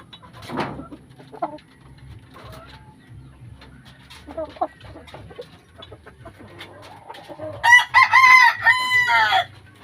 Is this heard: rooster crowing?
yes